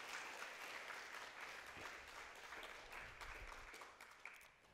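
Steady applause from a large audience at a university youth forum, continuous and fairly even throughout, fading slightly toward the end.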